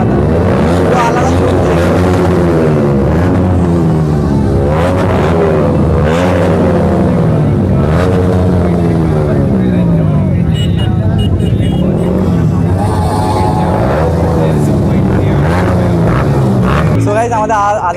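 Superbikes including a Hayabusa and a ZX10R at a crowded bike meet: loud engine revs rise and fall repeatedly, close and dominant, with people talking in the background.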